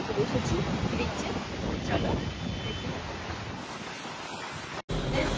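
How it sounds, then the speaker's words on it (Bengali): Sea waves roll onto the beach at Puri in a steady, continuous wash of surf, with wind buffeting the microphone throughout and a brief dropout near the end. "সমুদ্র সাইডে চলে এসেছি দেখছে।"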